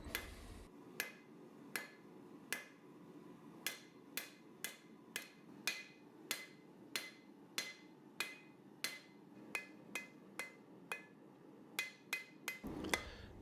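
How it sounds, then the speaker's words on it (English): A hammer strikes W1 steel flat bar on an anvil while the tip of a kiridashi knife is forged, giving about twenty sharp, ringing blows at a steady, moderately quick rhythm, close by and clear. "Started out forging the tip."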